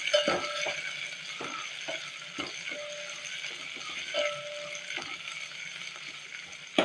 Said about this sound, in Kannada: ಸ್ವಲ್ಪ ಅದು ಫ್ರೈ ಮಾಡಬೇಕು ಎಣ್ಣೆಯಲ್ಲಿ.